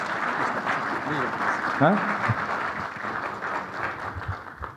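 Audience applause at a big data analytics conference in Peru, a steady wash of clapping from the crowd lasting several seconds, with a voice briefly speaking over it partway through.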